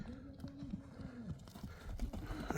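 An Appaloosa horse moving at a pacing gait gives quick, rhythmic hoofbeats, fairly close, with voices talking faintly in the background.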